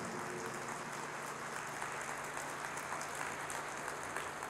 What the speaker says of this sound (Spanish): Fuertes aplausos a la palabra de nuestro Señor